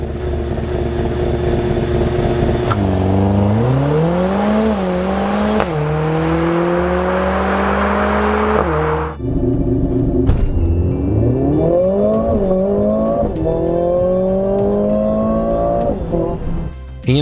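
A Mercedes CLA 45 AMG engine roars loudly as it accelerates hard, pitch climbing through several gear changes with brief dips between shifts.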